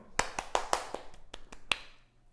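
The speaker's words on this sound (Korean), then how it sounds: "정답! 박수!" A few people in a high-school chemistry class clap briefly for a correct answer, making about eight sharp, separate hand claps in a quick uneven burst before it fades to quiet.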